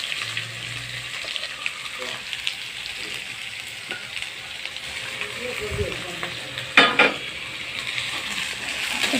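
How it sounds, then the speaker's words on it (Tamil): Chopped vegetables frying in hot oil with mustard seeds and dal in a pan, a continuous sizzle with scattered stirring clinks and a sharp utensil scrape near the end. "இப்போ நம்ம அரிஞ்சு வச்ச வெஜிடபிள்ஸ் எல்லாம் போட்டுக்கலாம்."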